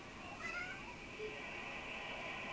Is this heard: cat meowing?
yes